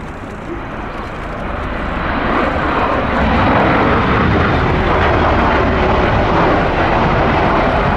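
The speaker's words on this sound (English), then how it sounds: "A tilt rotor will see that demonstrated during this display." A loud CV-22 Osprey tiltrotor aircraft engine roar builds over a few seconds and then holds as a heavy, steady drone during an air display at RIAT 2023.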